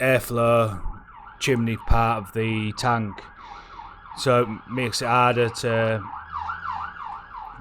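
A wailing ambulance siren rises and falls repeatedly in the background while someone talks over it, the siren clearest in pauses between his words.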